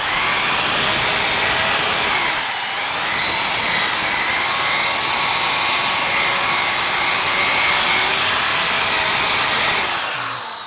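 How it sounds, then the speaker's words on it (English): A medium-stiffness nylon brush, apparently spun by a power tool, scrubs a damaged Toyota Tacoma bumper, giving a continuous high motor whine with brief dips in speed and a rushing scrubbing noise throughout. "This is like a medium stiffness nylon brush, so it's not gonna hurt it"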